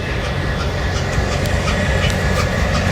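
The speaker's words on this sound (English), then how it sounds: "that train already got its crew, and away it goes again" A train rumbles steadily nearby in Winslow, Arizona, with a continuous low roll and faint rhythmic clacking of wheels on rails.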